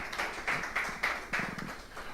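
A church congregation claps in a short burst, a few sharp uneven strikes rising and falling over about two seconds, fairly close and without voices.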